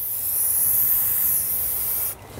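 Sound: spray painting car wheel black

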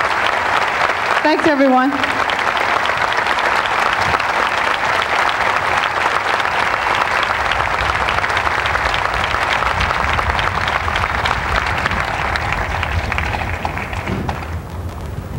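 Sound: audience applause at Hall of Fame induction

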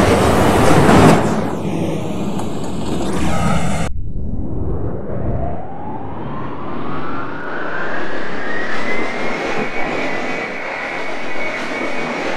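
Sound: R68 subway train running on the C line

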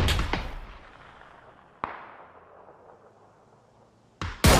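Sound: gunfire in a video game

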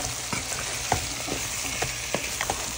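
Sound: sweet potato and greens being stirred and sautéed in a pot

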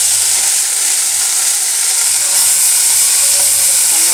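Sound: balloon vine leaves sautéing in castor oil

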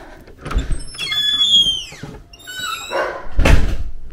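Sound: creaking stable door opening

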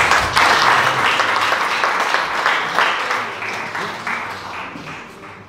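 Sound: audience applause after a song

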